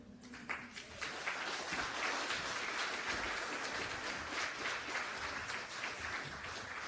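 Continuous applause from a town hall audience gathered for a Jamaica diaspora meeting in Trinidad. Dense, even clapping fills the room at moderate distance, with a brief voice at the start.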